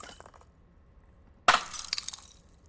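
Quiet room tone, then a sudden sharp crash of a bottle smashing, shards tinkling and scattering for a second afterward; an AI-generated sound effect.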